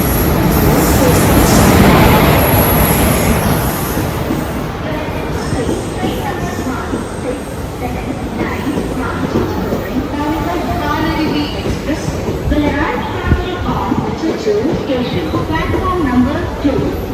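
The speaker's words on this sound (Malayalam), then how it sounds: "അങ്ങനെ നമ്മുടെ പാലരുവി എക്സ്പ്രസ് വന്നിരിക്കുക കേട്ടോ." The Palaruvi Express pulls into a crowded Thrissur railway station with a loud, continuous rumble and roar that swells early and then holds steady. Voices from the busy platform mix in underneath.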